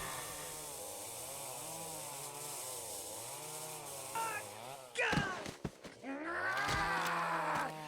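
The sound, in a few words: chainsaw duel in video game ObsCure 2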